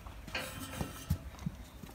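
Brown Arabian horse on a farm, hooves clip-clopping in a few distinct, uneven knocks, fairly faint against a low background.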